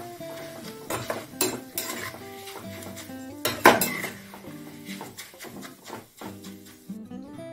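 Leftover poha, flattened rice, is fried for homemade chivda while a utensil stirs and scrapes the pan, giving irregular metallic clinks and knocks over a soft sizzle.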